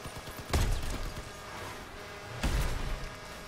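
A cannon on an armored vehicle in the Crossout combat game fires two heavy booms, about two seconds apart, each with a rumbling tail. Engine and battle noise continue underneath.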